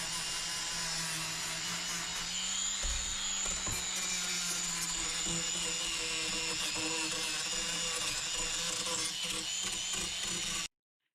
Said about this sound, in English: now I'm back to these Mountain Laurel legs where I am sanding down just to make it nice and smooth.